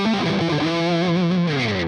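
A heavily distorted electric guitar plays a short, continuous lick, with bent, wavering sustained notes and a thick, saturated tone, loud and alone.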